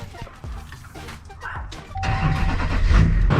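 The diesel engine of a Duramax pickup truck cranks and fires up, settling into a loud, rumbling idle after a few seconds of quieter shuffling sounds.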